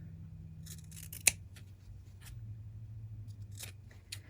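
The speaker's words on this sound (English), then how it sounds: "trim off the excess on your corners just to keep the bulk out of those seams." Scissors snipping the excess fabric off seam allowance corners on a sewn luggage tag, a few sharp close cuts, one louder snip early and another later, over a quiet low hum.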